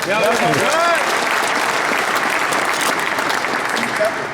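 Loud, sustained applause from a large crowd, steady from start to finish, with a brief shout or whistle near the beginning.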